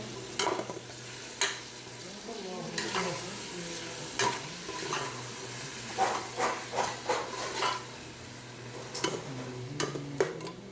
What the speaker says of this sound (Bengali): মোটামুটি এগুলো ভাজা হয়ে আসছে